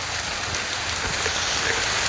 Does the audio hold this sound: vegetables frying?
no